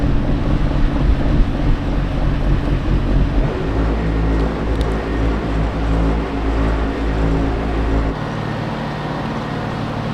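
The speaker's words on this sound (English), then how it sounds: "It's really windy today." Strong wind buffeting a microphone outdoors, a loud, rumbling low roar that gusts and shifts, dropping off sharply near the end.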